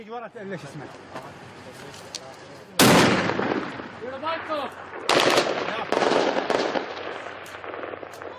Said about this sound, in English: In the face of heavy gunfire, the truck driver has U-turned and fled.